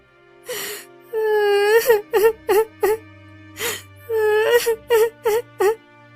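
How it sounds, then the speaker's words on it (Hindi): A woman in a Hindi animated story cries loudly, wailing in long drawn-out moans broken by a quick series of sobbing bursts, close and alone. "उस स्त्री की रोने की आवाज सुनकर उसके पास जाते हैं"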